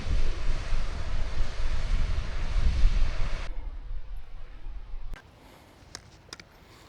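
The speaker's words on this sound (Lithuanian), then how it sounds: "Vėjukas nugarą pučia." Steady wind gusts roar across a mountain hiking trail on the Kungsleden, loud and broadband for several seconds, then drop away to quieter air with a few faint knocks.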